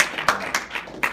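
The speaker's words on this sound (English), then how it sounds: "So why don't you give yourselves a round of applause?" Students at a stock market presentation clap briefly, a few sharp, close, uneven claps in quick succession from a small group.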